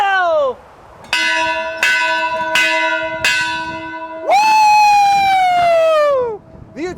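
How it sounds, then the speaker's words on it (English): A loud bell is struck four times in a steady rhythm, each ring sustaining bright overtones, then a long, ringing siren-like tone sweeps down before fading, right at the start of a college basketball broadcast segment. "Ring that bell!"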